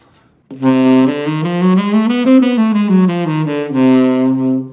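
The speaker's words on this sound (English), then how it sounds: "But for the whole half diminished scale, that's going to sound like this." A whole-half diminished scale played on a pitched instrument, notes stepping up in alternating whole and half steps and back down, clear and sustained with steady loudness and no talking.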